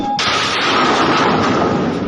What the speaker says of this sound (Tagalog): isang malakas na pagsabog na narinig